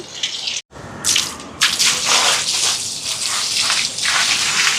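Water splashes and gushes steadily onto a surface, a continuous loud wet rush with a brief pause near the start.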